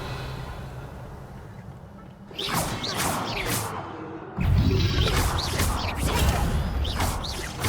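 Magical whooshes and shimmering bursts from the Revelio spell in Hogwarts Legacy sweep through in a couple of waves, with bright swishing flourishes over a low rumbling bed that swells louder partway through.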